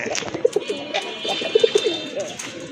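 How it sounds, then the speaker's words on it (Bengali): Pigeons coo in short, soft bursts at a pigeon market, a few close murmuring calls scattered over steady crowd background noise. "এটা হচ্ছে একটা মাদি কবুতর"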